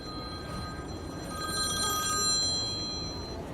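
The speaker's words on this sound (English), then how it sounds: "Somebody else getting a phone call there." A telephone rings faintly in the background of a broadcast studio, its electronic trill repeating steadily over a low hum for a few seconds with no speech.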